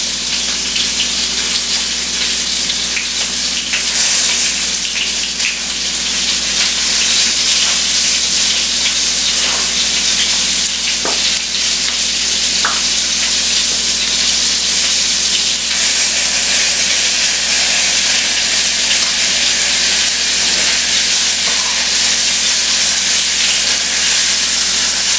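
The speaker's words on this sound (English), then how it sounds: "but I'm still frying it up in butter." Skinless chicken breast halves frying in butter in a pan, a loud, continuous hiss and sizzle that runs unbroken through the whole stretch, alone with no talk.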